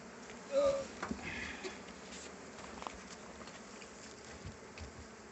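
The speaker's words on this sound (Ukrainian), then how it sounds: "Ось такі в нас бджоли." Faint, steady bee buzzing at an apiary carries through the whole stretch, with a brief louder drone near the start and a few light taps.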